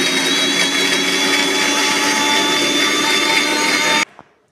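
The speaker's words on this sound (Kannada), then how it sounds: "ಇವಾಗ ಇದನ್ನು ಮಿಕ್ಸಿ ಮಾಡ್ಕೊತೀನಿ" A mixer grinder whirs loudly and steadily while grinding a wet garam masala paste of cinnamon, cloves and cardamom, a continuous high-pitched motor roar that stops abruptly near the end, followed by a small clunk.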